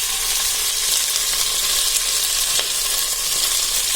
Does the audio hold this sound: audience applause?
no